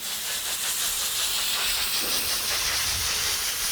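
Compressed air blasts through the air filter of an Isuzu NQR 175 truck in a steady, loud, continuous hiss that lasts throughout with no pauses.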